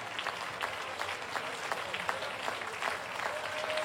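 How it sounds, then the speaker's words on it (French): Dense applause from a large crowd at an agricultural show arena, a steady, fairly distant roar of clapping calling performers back for an encore, with no speech over it. "il faut applaudir, applaudir et applaudir encore plus fort pour tous les faire revenir."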